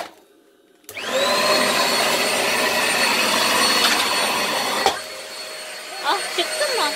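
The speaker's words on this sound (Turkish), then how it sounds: "Ve burada süpürgemiz." A Bosch vacuum cleaner starts after a second of quiet and runs loud and steady, drawing up kinetic sand, then its roar drops near the end to leave a lighter hum with a few brief chirps.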